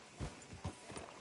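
Horse hooves clip-clop at a walking pace in Red Dead Redemption, with three or four distinct thuds spaced evenly, close and moderately loud over a soft ambient background.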